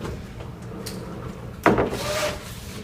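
A recessed ceiling projection screen in a college classroom, fitted with new and still-stiff screws, gives off soft scraping and rubbing, then one sharp knock followed by a brief grinding slide.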